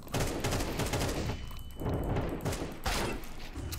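Rapid gunfire in Counter-Strike, bursts of automatic shots crackling in quick rhythmic volleys with short gaps between them, loud and close, no talk over it.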